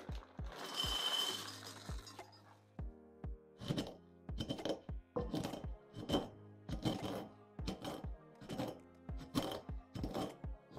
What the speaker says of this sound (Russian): Сначала мы с вами берем печенье и измельчаем его в крошку.